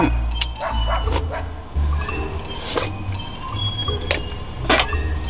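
A dog barks several times in short sharp bursts close by at a winter campsite, with glassy clinks and low background rumble between the barks.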